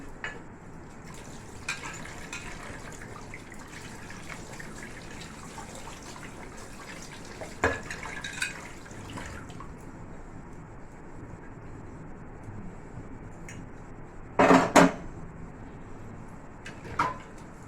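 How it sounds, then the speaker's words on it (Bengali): Dishes being scrubbed and washed with water, a faint continuous wash of water and soft scrubbing, with occasional clatters and a short louder burst of running water near the end, no voices. "আস্তে আস্তে করে সব বাসন মেজে নেব।"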